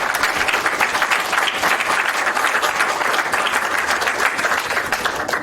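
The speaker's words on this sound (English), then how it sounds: "I would like to ask everyone to give a special applause to Bernd" Sustained audience applause at a LASEC2 event, dense steady clapping from a large crowd filling the whole stretch without any voices.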